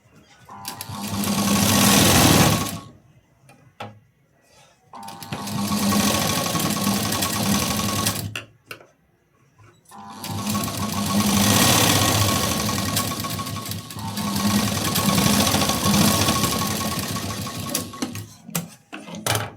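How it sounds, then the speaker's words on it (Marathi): A sewing machine stitches a straight seam along a marked line on a blouse, running in three long, loud bursts separated by short pauses, with no talk. "जे मार्किंग केले यावरती सरळ लाईन ओढलेली आहे, यावरती आपण शिलाई देऊन घ्यायची"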